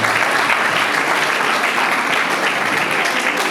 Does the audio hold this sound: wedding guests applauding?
yes